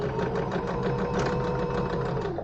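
A sewing machine runs without pause, stitching a French seam in linen. Its rapid, even needle beat comes with a mechanical whir, close and steady for the whole moment, then it slows slightly at the end.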